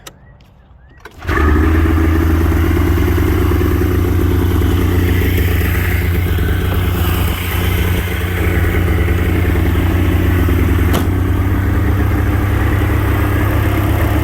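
A Polaris Indy 680 snowmobile engine starts after a brief quiet moment, then settles into a steady, loud, continuous idle with a low rumbling drone.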